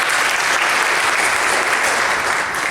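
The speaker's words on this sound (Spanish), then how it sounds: "Un aplauso al Espíritu Santo de Dios." A congregation claps steadily and densely at a Pentecost retreat, a loud sustained applause with no talking over it.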